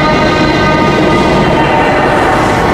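A train passes through a Tokyo scene in the Japanese film Tokyo Revengers, a loud, steady rumbling roar with a faint tonal whine, close and continuous throughout.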